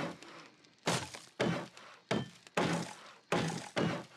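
A wrench striking in a video game mod, giving a series of about eight sharp, hollow thunks in an irregular rhythm, close and clear with nothing else heard between them.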